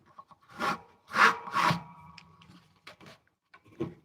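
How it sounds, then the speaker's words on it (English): A hand saw cuts wood held parallel to a table, giving a few short rasping strokes in quick succession, close and fairly loud, then quieter scrapes with brief pauses between them. "I just hold my saw parallel to the table"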